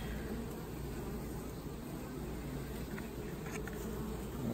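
A bank of queenless honeybees in a hive hums as a low, continuous, faint drone under soft outdoor background noise, with no talking.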